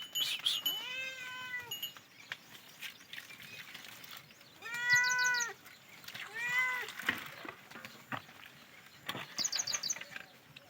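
A cat meows several times, drawn-out and close, with pauses between calls and light background clatter.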